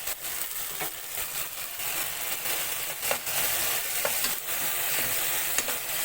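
Tomatoes frying in a pan as the base for chicken shawarma: a steady, close sizzle with crackling pops and a few louder spits and stirring scrapes, no voices.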